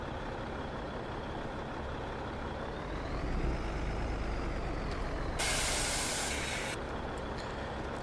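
A truck's air brakes let out a hiss in Farming Simulator 22, a sharp burst of released air over a steady engine drone, with faint beeping alongside.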